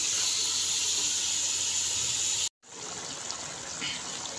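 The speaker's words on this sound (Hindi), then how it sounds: "इसको हमने तेज़ आंच पे फ्राई करना है" Tandoori chicken fries on high heat in a pan, giving a loud, steady broadband sizzle and hiss that cuts out abruptly for a moment, then resumes slightly quieter with faint bubbling.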